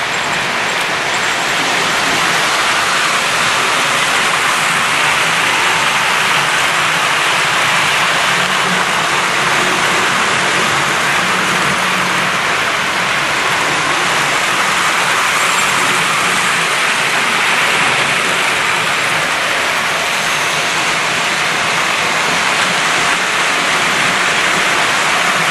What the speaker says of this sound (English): A lot of wheel noise going off now.